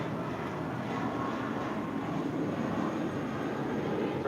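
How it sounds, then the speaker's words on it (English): A Spirit Airlines A320 departing LAX, a steady broadband jet engine roar holding at a constant level throughout, heard from a distance with no talk over it. "Had a Spirit 816 departing to Kansas City on an A320"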